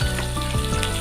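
Chillies sizzling and frying in hot oil in a pan for a Tamil ridge gourd stir-fry, a steady close crackle with faint stirring, no voices.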